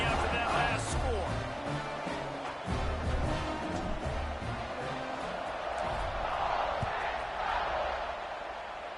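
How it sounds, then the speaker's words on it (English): Crowd in a college football video game against Purdue keeps up a steady roaring murmur after a touchdown, loud and continuous throughout, with commentary voices talking over it. "this crowd is buzzing after that last score"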